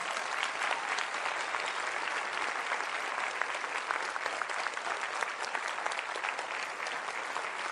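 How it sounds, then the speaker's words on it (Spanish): A big church congregation claps hard and continuously, a thick unbroken wash of applause that stays loud throughout. "vamos a darle un aplauso al Señor."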